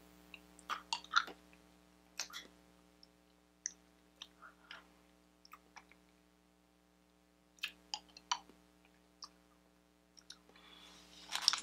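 Chewing sour lemon candy from a Japan Crate box, quiet, close crunches and clicks in irregular clusters with pauses between, with no talking.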